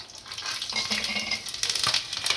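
Cumin seeds and green chillies hit hot oil for a rava dhokla tempering, giving a close, continuous crackling sizzle with brief pops throughout.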